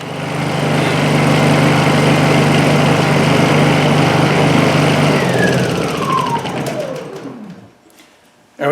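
A Honda generator engine runs loud and close after repair, holding a steady drone, then is shut off and winds down with a falling pitch into near silence.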